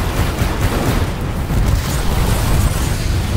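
Rocket blast in Destiny 2, a loud dense rumbling boom with roaring debris that fills the whole moment, close and heavy with no talk over it.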